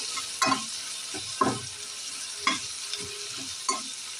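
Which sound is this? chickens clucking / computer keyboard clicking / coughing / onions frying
onions frying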